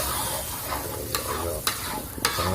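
A blended spice paste for cilok fries in a pan with a constant sizzle, while a utensil scrapes and taps the pan three times.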